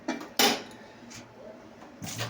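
A lid is set on a cooking pot of fish curry, giving a couple of sharp metallic clanks close by, followed by fainter knocks and a final clatter.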